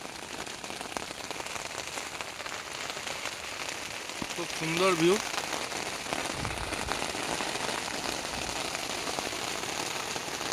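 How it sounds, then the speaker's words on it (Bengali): Heavy rain pours down on a jungle campsite, a constant close hiss and patter of drops on surfaces. A person speaks briefly midway over the steady downpour. "প্রচণ্ড মানে প্রচণ্ড বৃষ্টি, আমাদের কার্পেটটাও ভিজে গেছে"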